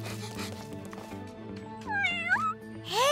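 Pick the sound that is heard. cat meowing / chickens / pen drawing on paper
cat meowing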